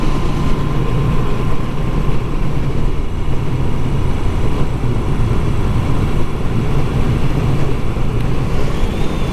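A Moto Guzzi V7 motorcycle cruising in fifth gear at about 50 on rural backroads, a steady low engine drone mixed with strong wind rush, loud and unbroken throughout.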